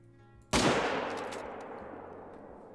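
A single loud gunshot from a shooting video game, fired as a drop shot, hits sharply and then rings out in a long, slowly fading tail with no voices over it.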